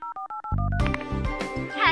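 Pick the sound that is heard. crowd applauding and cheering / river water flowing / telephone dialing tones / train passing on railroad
telephone dialing tones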